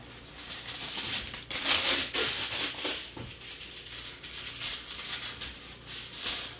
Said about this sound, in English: Get yourself some aluminum foil.